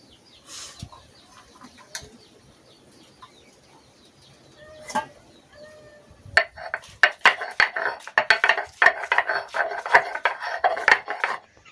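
Spices being ground on a traditional stone slab (shil) in a home kitchen: dense, rapid scraping and grinding strokes that start partway through and continue steadily, close and fairly loud, after a quieter stretch of faint household sounds.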